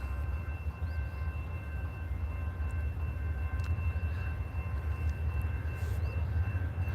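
A Norfolk Southern train rolls through historic downtown Stevenson, Alabama, a steady low rumble and rail noise sustained throughout, with faint higher squeals and clanks drifting over it from mid-distance.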